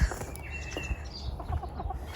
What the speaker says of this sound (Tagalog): Ayan na yung mga manok.